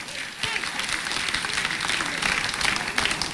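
An audience welcomes a singer at a folk music show with a swell of crowd applause, dense clapping building and holding steady over a noisy hall with some voices mixed in.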